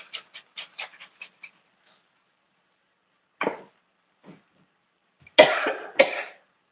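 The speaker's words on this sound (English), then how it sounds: "I don't know what's got me coughing." Repeated coughing from a person cooking shrimp fried rice after handling blazing hot chili flakes: a quick cluster of short soft bursts, then a few louder, harsher coughs up close, with no talk.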